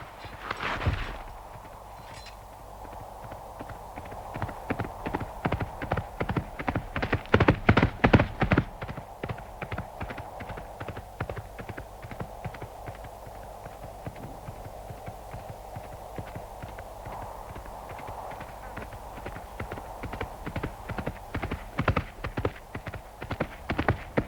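Horse hooves clip-clop steadily at a walking pace, a brisk rhythmic run of hoof strikes that swells louder midway then continues evenly, moderately near, with no speech.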